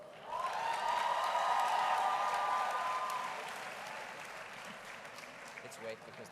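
An audience at a university graduation ceremony bursts into applause and cheering that swells, holds, then fades to a quieter crowd murmur, heard from a distance with some talk.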